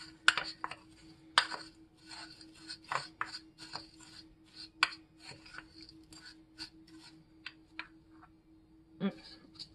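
Ingredients being mixed in a bowl in a kitchen, giving irregular scraping, clinking and rubbing strokes of utensil against the bowl, close and fairly quiet, with a steady low hum underneath.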